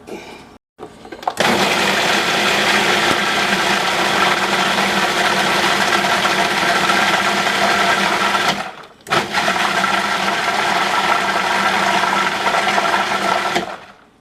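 An electric mixer runs steadily through blueberry swirl cake batter, a loud continuous whir with a brief cutoff partway through before it starts again, no talking over it.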